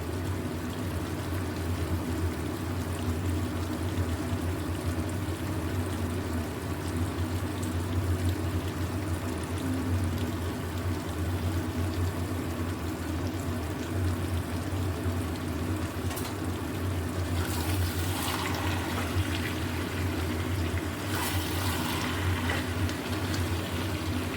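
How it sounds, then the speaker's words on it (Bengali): Water streams steadily into a pot of winter vegetable curry cooking with spices and cream, a continuous close pouring and bubbling wash with a couple of brief brighter splashes near the end. "এবার অল্প জল, ঝোল যে যেরকম খাবে সেরকম বুঝেই দেবে।"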